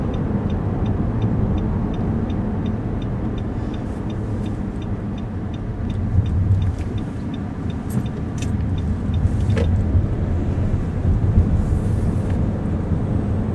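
A Nissan Qashqai cruises smoothly along a road near Lough Neagh, heard from inside the cabin as a steady low road and engine rumble, with a faint regular ticking running underneath.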